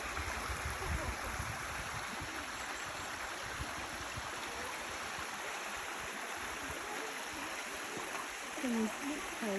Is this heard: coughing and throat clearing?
no